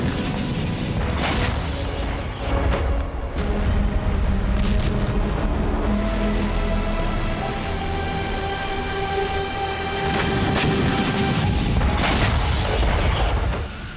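A deep, sustained rumble from a bomb blast in an atomic war scene, loud and continuous with rolling low-end thunder and a few sharper cracks and tonal roars layered through it.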